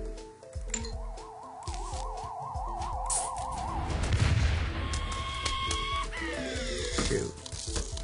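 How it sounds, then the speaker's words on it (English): A cherry bomb bursts among zombies in Plants vs Zombies on a roof level, a booming explosion swelling midway over busy game sounds, chirpy effects and background music, no talk. "I'm gonna use the cherry bomb to explodinate a lot of zombies."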